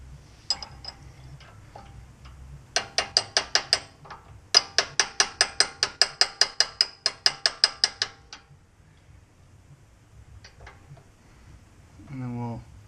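Hand ratchet snugging down bolts on a truck during alignment work, two runs of evenly spaced sharp clicks close by, the second run longer, with someone speaking briefly near the end.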